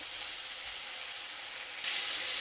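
Chopped tomatoes sautéing in a pan for pav bhaji, a steady bright sizzle with no voices, swelling louder near the end.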